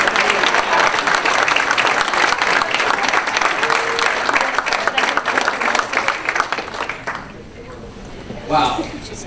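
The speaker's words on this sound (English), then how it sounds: "And a huge round of applause." Loud, dense applause from the audience honoring journalists at a press club awards reception. The clapping runs for several seconds, then thins to scattered claps as it fades out, with some voices mixed in.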